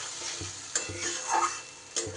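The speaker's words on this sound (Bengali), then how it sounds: "সুন্দর করে এবার মশলাটা কষিয়ে নিতে হবে।" Spice paste being stir-fried in a pan for a vegetarian banana-stem dish: a soft, quiet sizzle with a few light stirring scrapes and occasional clinks, close by, no talking.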